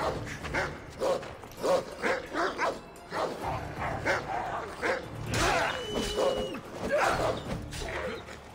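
Dog in the Assassin's Creed Odyssey video game barking and whimpering in repeated short yelps and whines, fairly close and steady throughout, with faint game ambience behind.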